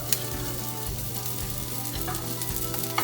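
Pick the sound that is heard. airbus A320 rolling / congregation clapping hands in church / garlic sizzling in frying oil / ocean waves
garlic sizzling in frying oil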